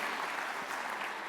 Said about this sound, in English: So can you give a really loud round of applause for our AV folks and Tasha for doing such a great job.